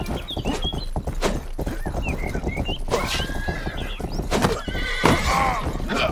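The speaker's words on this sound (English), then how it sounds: "This horse is fast." A horse in the video game Rustler neighs loudly several times while galloping, its fast, rhythmic hoofbeats pounding steadily beneath the whinnies, close and prominent.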